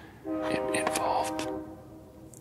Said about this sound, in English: man, I have trains going by here all day,